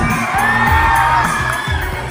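A large crowd at a Pure Gold event shouts and cheers loudly for actor Paolo Avelino, a continuous dense roar with whoops and children's shrieks, close and sustained throughout.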